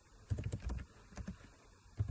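Keys clatter on a computer keyboard while a search term is entered on a reference website, in short bursts of close taps with a pause between them.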